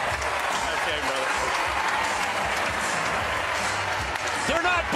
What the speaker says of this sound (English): They're not booing, Rob. They're yelling, Kooley!